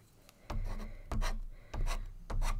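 Watercolour paint being scraped across paper with a spatula to make a wall in a winter landscape: four close, loud rasping strokes, each about half a second long, separated by brief pauses.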